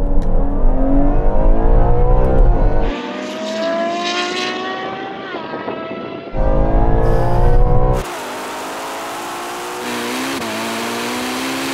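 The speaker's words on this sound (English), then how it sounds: "now we're going to have a rolling race from 30 miles an hour to the half mile" Ferrari cars, a Purosangue, 812, SF90 and 296 GTB, in a rolling drag race from 30 mph with manual shifting in the sportiest mode, engines roaring loudly through rising revs with abrupt drops at gear changes.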